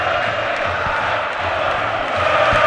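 Fluminense football supporters in a stadium crowd, Morumbi during a Copa Libertadores match, keep up a broad, steady roar of cheering and chanting, distant and continuous without a clear peak.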